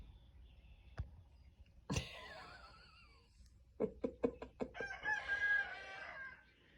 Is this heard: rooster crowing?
yes